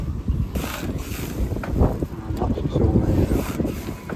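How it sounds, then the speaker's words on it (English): Gusty wind at a marina buffets the microphone in rough bursts, mixed with creaking, knocking boat sounds and a voice talking underneath. "It's so windy out here"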